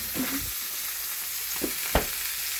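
A keto Juicy Lucy burger patty fries in butter in a pan with a steady close hiss and sizzle, broken by a few soft thuds and one sharper knock, and no voices.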